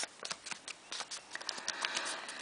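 Origami paper being folded in half for a heavy rain model: a rapid run of crisp, close rustles and crinkles, soft and irregular, with no speech over them.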